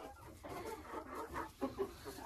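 In a chicken coop, a hen that has just laid an egg clucks quietly in a run of soft, uneven calls, with a couple of sharper notes near the end.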